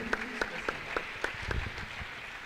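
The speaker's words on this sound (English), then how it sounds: "Can you please clap for him?" A small audience at a Microsoft Learn community event in Akure applauds a participant, giving a short burst of scattered, fairly close hand claps with some voices mixed underneath.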